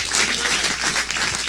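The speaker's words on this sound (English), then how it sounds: "applause" An audience at a startup pitch event gives a loud, dense round of continuous clapping after a pitch, steady throughout without talk.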